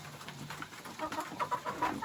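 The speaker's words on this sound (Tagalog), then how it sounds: "Kasi marami ng sisiw." Chickens and chicks on a farm, with soft overlapping clucks and peeps close by, rising in a busy cluster toward the end.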